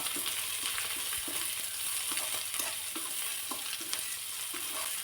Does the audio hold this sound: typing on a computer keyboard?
no